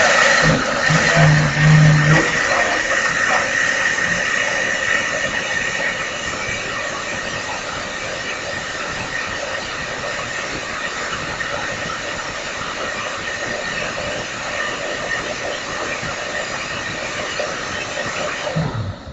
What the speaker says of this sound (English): And then what I do is I blend this together.